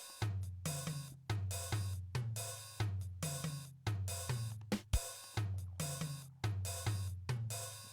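A drum pattern played with the bass drum left out: repeated snare and tom hits with ringing low tones and hi-hat in a steady, polyrhythmic cycle, close and clear with no talking.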